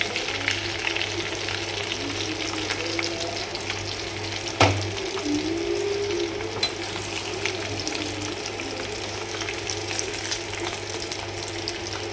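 Chicken pieces fry in a pan at home, a dense continuous sizzle with a low steady hum beneath and one sharp clank midway, no speech.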